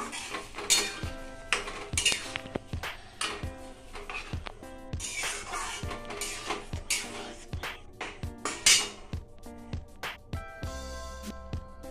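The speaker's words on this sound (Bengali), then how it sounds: "দিয়ে একটু নেড়ে চেড়ে নেব।" A utensil stirs black sauce into food in a pan, scraping and clinking against the metal in an irregular rhythm, close and fairly quiet.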